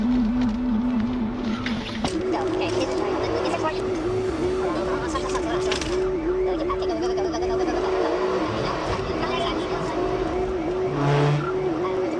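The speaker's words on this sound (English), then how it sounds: "We're trying to chase this car right now." Cars race at high speed during a police chase, engines roaring loudly and steadily with a droning siren-like tone, tire noise and rushing wind, while a radio voice talks over the commotion.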